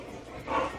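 A small, elderly dog gives a single short bark up close, moderately loud, over a quiet indoor background.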